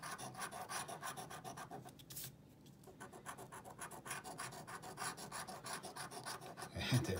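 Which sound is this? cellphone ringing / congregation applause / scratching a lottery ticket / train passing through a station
scratching a lottery ticket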